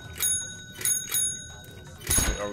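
Bicycle bells in the game Totally Accurate Battlegrounds, several bright metallic rings in quick succession, followed by a louder thump near the end.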